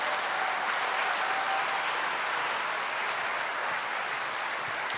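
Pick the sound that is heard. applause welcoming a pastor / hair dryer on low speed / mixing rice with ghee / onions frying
applause welcoming a pastor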